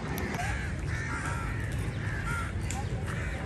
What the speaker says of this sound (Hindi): हम का क्रो को खिलाने की कोशिश कर रहे हैं, हम बुला रहे हैं इसको कौवे को।